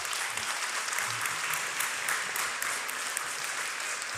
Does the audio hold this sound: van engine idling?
no